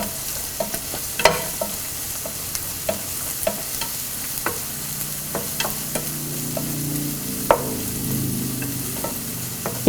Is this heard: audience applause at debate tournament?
no